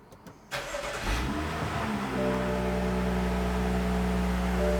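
A BMW X5 being repaired for a VANOS solenoid fault starts up: a brief starter crank, the engine catches with a rev, then settles into a steady loud idle, close by with no talking.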